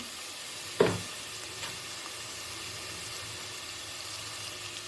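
Crushed garlic hitting hot oil in a pan of Vellore-style thorny brinjal kuzhambu, giving one sharp sizzling burst followed by a steady low frying hiss.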